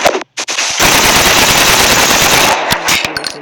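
Rapid automatic gunfire in the shooter game Bullet Force: a couple of sharp shots, then a loud, dense continuous burst lasting about two seconds, ending in a few scattered trailing shots, up close and without talk.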